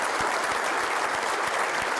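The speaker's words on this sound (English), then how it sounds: "as evidenced by that wonderful applause" An audience gives steady, dense applause for Mayor Bernie Streeter at an event, a full room of clapping sustained evenly throughout.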